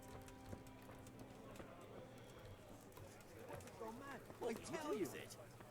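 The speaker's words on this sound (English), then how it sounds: "That'd be a Horse." Faint horse hooves clip-clop in the medieval game Kingdom Come: Deliverance, a soft irregular patter of steps amid quiet ambience and bird-like calls, with muffled voices nearby.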